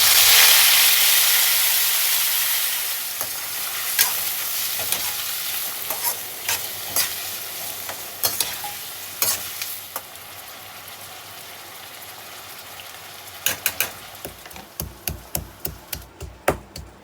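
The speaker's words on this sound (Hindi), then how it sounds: "इसको फटाफट जो है हम तड़का लगा लेंगे" A tadka for bhaji crackles in a hot pan with a loud, steady sizzle that gradually settles, while a spoon stirs and scrapes in sharp intermittent clicks that grow more frequent at the end; nobody speaks.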